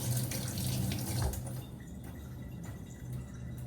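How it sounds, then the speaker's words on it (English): Hands are rinsed under running water at a campsite on a river island, giving a loud, steady gush that thins to a lighter trickle with drips. "now I'm gonna rinse my hand off right quick"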